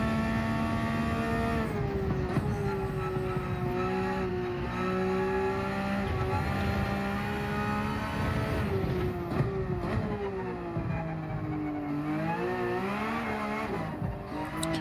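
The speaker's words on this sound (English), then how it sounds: "the engine sound is so nice. It sounds like a much meatier version of the old Porsche." Porsche 992 GT3 R race car in Gran Turismo 7 roaring loudly and continuously, its engine note climbing and dropping through repeated gear changes over the whole stretch, with no talk.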